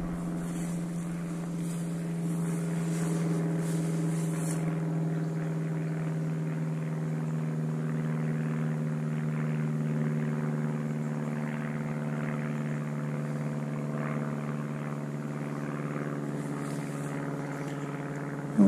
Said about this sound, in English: That would be a small plane.